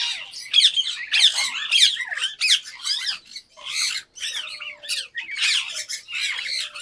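A pet bird squawks repeatedly from inside its cage, giving a series of harsh, shrill calls that continue nearly without pause at close range.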